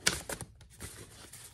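Quick crisp riffling bursts, like a deck of cards being shuffled close by, a few sharp flutters in about a second and a half.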